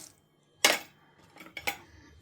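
Pumpkin seeds tumble into a pan with a sharp rattling clatter, then a few lighter clicks as they settle, close and alone.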